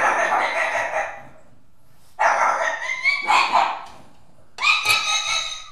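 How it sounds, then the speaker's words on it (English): Several pet dogs bark and yap close by in short bursts, with high-pitched, overlapping calls spread across a few seconds and quiet gaps between them. "those are my dogs"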